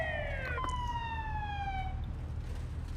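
Police car siren in the video game Sleeping Dogs, a wailing tone sweeping downward and fading over a couple of seconds above a steady low engine and traffic rumble, with no voices.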